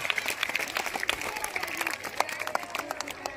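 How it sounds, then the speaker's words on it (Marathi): An audience at a school sports event applauds, brisk scattered claps layered over a continuous crowd clatter, fairly close and lively throughout. "यांच्या संस्थेसाठी आणि सरांसाठी, या सर्व शिवकन्यांसाठी एकदा जोरदार टाळ्या वाजवा मित्रांनो"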